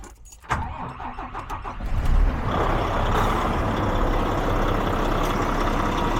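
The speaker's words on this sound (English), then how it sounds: "Start the engine." A DAF XF truck with an MX-13 engine cranks and fires up during a fuel leak-off test, settling into a loud, steady diesel idle that continues close by for several seconds.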